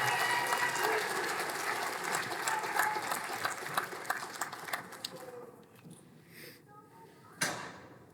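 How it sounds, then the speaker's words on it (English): Sustained applause from a graduation ceremony crowd for practical nursing graduates, with dense steady clapping that thins out near the end before a final sharp burst. "Let's give a fulsome round of applause to the graduates of the Practical Nursing"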